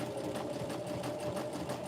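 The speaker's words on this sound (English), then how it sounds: "I'm just running the zigzag so that it's going over the edge of my fabric" A sewing machine runs a zigzag stitch over the edge of fabric, a steady fast mechanical whirr with an even rapid needle pulse, close and alone for under two seconds.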